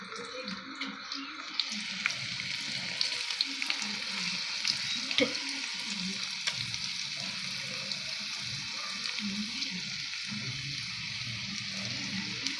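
Ginger garlic paste fries in oil in a pan for egg biryani, a steady soft sizzle with occasional stirring scrapes throughout, moderately quiet and continuous.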